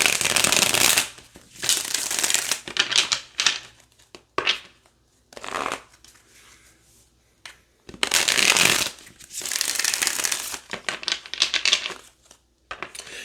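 Tarot cards are shuffled in repeated riffling bursts, each a second or two long, separated by short pauses, close and fairly loud, with no talking.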